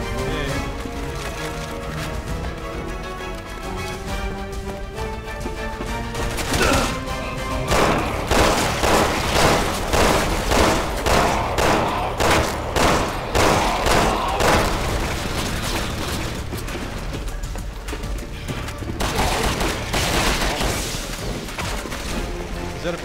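Rapid bursts of gunfire against enemies in Resident Evil 6 on an aircraft carrier bridge, a dense run of repeated shots and booming impacts in the middle stretch over a steady game soundtrack, with a voice now and then.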